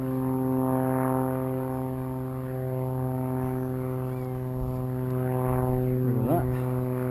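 A model OVO airplane's propeller droning steadily as it flies in to land, a continuous buzzing engine tone that stays close and fairly loud throughout, with a brief change near the end.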